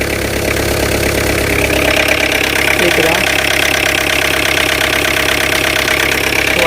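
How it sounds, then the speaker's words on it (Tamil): A Tata Indica car engine running roughly, giving a steady, close, continuous idle with an uneven knocking pulse throughout while someone talks over it. "இன்ஜின் சவுண்டு ரொம்ப மோசமாக இருக்கும்."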